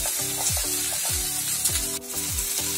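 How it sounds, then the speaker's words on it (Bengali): Peanuts, with paneer, fry in a pan over a medium flame for pulao, giving a steady loud sizzle with repeated stirring scrapes. "আর চীনাবাদামটা। এবার এটাকে এরকম ভাবে 40 সেকেন্ডসের জন্য মিডিয়াম ফ্লেমে ভাজুন।"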